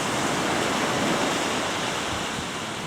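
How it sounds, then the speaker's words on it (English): Waves run up the sand at Elliot beach in Arbroath, a continuous broad wash of surf with wind over the microphone, steady and fairly loud with a slight fade at the end. "the water comes in and runs up along the beach"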